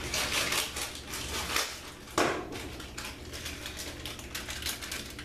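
A 4.5-ounce plastic package of raisins is cut open, giving a rustling crinkle of packaging and one sharp snip midway, close and fairly quiet.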